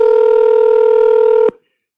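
An unanswered telephone call ringing out on the line, a steady two-tone ring held for about a second and a half before cutting off abruptly, with silence after.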